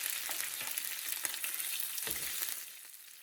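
Curry leaves dropped into hot oil with peppercorns and ginger for pongal crackle in a dense, steady sizzle with small pops, close and loud, fading slightly at the end.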